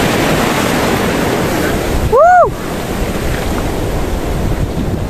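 Sea waves roll and wash in a steady broad roar with wind buffeting the microphone, broken briefly by a short rising-and-falling whistle-like tone near the middle.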